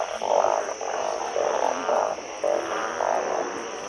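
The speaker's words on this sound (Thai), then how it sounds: "มากบเฮ้ย" Frogs croak in a steady chorus of repeated, pulsing calls through heavy rain, a constant hiss of downpour filling the background.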